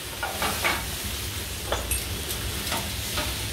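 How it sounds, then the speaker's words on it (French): Beef rump steak sizzling in a pan while being deglazed and flambéed with cognac, a steady frying hiss with light stirring scrapes and small crackles throughout. "Je vais déglacer au cognac, déglacer et flamber."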